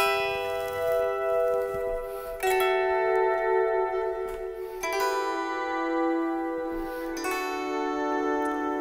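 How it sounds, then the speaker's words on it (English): An electric guitar run through chorus, heavy reverb and a volume pedal plays sustained chords that swell in without a picked attack, layering into a shimmering, organ-like wash with several new chords entering over the ringing tails. "you could probably just get a really nice chorus sound with bags of reverb, and you put it through a volume pedal"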